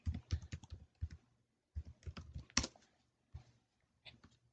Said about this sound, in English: So type in your email.